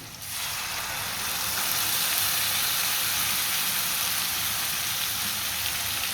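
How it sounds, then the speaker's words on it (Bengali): Spice paste of turmeric, chili, ginger, garlic, cumin, salt and garam masala sizzles loudly in a hot pan for chicken bhuna, a dense, steady hiss that rises sharply at the start and then holds evenly. "এটাকে এখন ভালো করে কষিয়ে নিব।"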